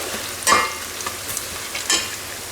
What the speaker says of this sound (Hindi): देखें तो ये उसके प्याज जो हैं लाल हो रहे हैं।